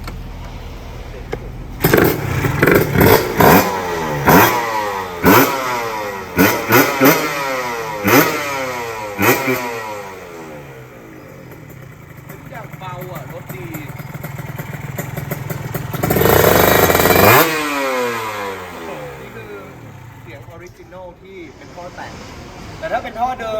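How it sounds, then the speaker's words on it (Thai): A two-stroke Kawasaki KR motorcycle engine revs repeatedly in sharp, rising bursts, then settles into a rough, buzzing idle before one long high rev; close and loud. "สองจังหวะทำไงก็ตามเนี่ยยังไงก็ดังครับผม"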